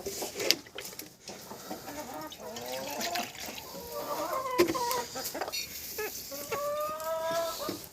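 A rooster and hens in a farmyard give a run of clucks and short calls at close range, some louder squawks rising above a soft background trickle.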